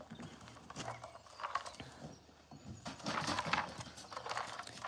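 Horses shuffle and clop around at morning feeding time, hoof knocks and bumps scattered at close range over a busy, rustling background with no clear talk.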